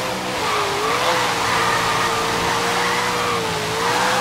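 A 1977 AMC Pacer with an 826-horsepower Hemi V8 drifts in Forza Horizon 3, its engine holding a loud, steady wail with faint tire noise beneath.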